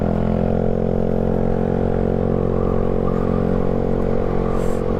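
A Yamaha Mio Sporty scooter engine with a freshly cleaned CVT revs hard and steady at full throttle, loud and close, with a constant buzzing drone and faint clatter throughout.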